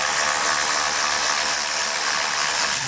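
A ratchet working a T30 Torx screw loose on the skid plate of a 2022 Jeep, giving a steady, close, fast clicking whir that runs for about three seconds with no talking.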